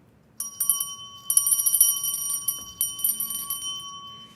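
A triple moon brass bell rings repeatedly at a gem and mineral show, its bright sustained metallic tones struck several times in quick succession close to the listener, with no talking.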